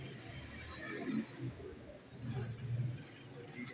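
Ferozpuri pigeon at a pigeon shop in Rawalpindi, cooing in low, soft repeated bursts, two clearer coos close by amid a faint background murmur.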